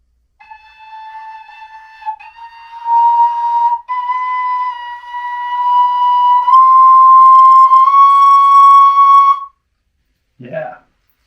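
A Linden Native American flute plays a clear, pure sustained tone that steps upward note by note toward the major third, close and fairly loud, followed by a short spoken word after it stops.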